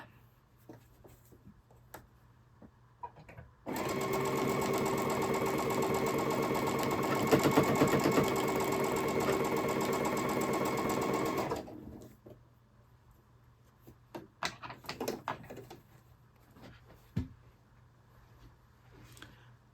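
Sewing machine stitching a quilt block, a steady loud mechanical whir of rapid needle strokes running for about eight seconds alone, framed by quiet handling clicks and taps before and after.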